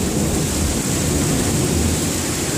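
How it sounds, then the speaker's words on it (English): Heavy rain pouring during a Missouri thunderstorm with flash flooding, a dense, loud, continuous hiss and roar with a low rumbling underneath, no voices. "And thunder."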